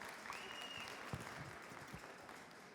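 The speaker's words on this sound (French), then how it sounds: "il faudrait l'applaudir plus fort, Pascal Baudin." Audience applause for a contestant at a cooking competition show, a steady wash of clapping from a crowd, moderately distant, with a faint tone sounding briefly over it.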